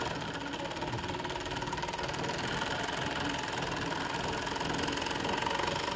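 A Juki MO-6916J five-thread industrial serger runs steadily through fabric, a continuous fast mechanical whir with fine rhythmic stitching pulses, close by and alone for the whole stretch.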